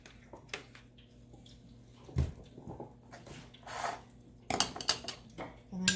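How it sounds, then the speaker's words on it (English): Eggs and milk for a salmon soufflé are stirred in a bowl, producing soft scattered clinks and scraping of utensil against dish, with a few louder knocks, while a person talks quietly nearby. "And then you just stir that up."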